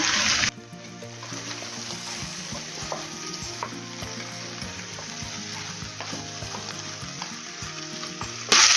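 Zucchini and other vegetables stirred in a pot of hot frying oil for a cream soup, a steady close sizzle with soft scraping and clinks of the spoon throughout, no talking.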